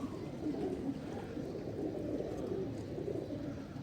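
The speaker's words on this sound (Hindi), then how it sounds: "बेबी पिजन है जी, जो कि पकड़ा" A baby pigeon being held and handled, with soft low cooing and faint rustling up close, continuous over a steady background.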